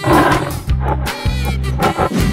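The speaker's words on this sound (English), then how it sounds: "Lion." A cartoon lion roars in loud, growling bursts close up, with low rumbling pulses repeating through the roar and nobody talking.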